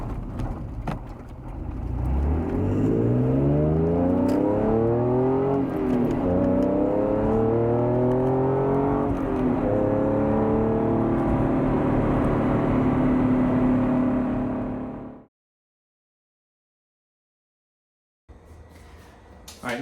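An Acura NSX sports car engine accelerating, loud and close, its pitch climbing through several gear changes for about fifteen seconds before cutting off, followed by a few seconds of silence and a brief return of noise.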